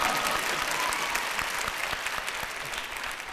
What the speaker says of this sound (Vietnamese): Vỗ tay.